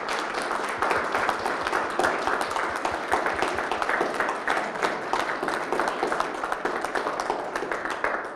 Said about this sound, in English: let's give a round of applause for the artists